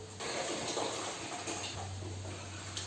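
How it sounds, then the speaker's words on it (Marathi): Poha (flattened rice) being washed and rubbed in water in a kitchen, giving a steady, close rush of running and sloshing water throughout. "आता मी पोहे पहिले धुवून घेते"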